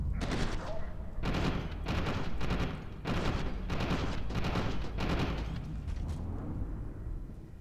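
Enemy gunfire in the shooter F.E.A.R. 2: Project Origin comes as rapid bursts of automatic shots in repeated volleys with short gaps, loud and close, trailing into echoing rumble.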